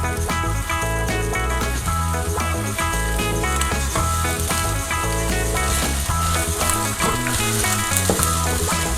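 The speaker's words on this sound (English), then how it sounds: "we will mix in the veggies with the egg. We need to make sure that we are constantly stirring so that the egg does not stick to the side" Veggies and eggs frying in a pan while being stirred, a steady bright sizzle under a continuous layer of background music.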